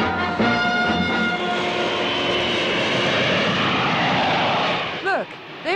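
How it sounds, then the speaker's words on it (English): A propeller-driven airplane flies with a fighter escort, its engine drone loud and continuous throughout, dipping slightly near the end. "Look, there's Father's plane now. Yeah, with a fighter escort."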